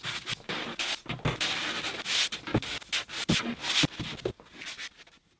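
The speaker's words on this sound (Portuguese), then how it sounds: "Com o nosso bloco de lixa manual comum, podemos lixar a face plana dos trilhos e montantes." A hand sanding block rubs back and forth over the edges of an MDF door in a quick series of close, raspy strokes, each a short scratchy burst with brief gaps between.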